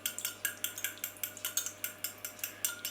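Eggs are gently beaten in a bowl for a Manor House cake, making quick, regular clicking strokes of a utensil against the bowl. The clicks are close and even, about five per second, with no talking.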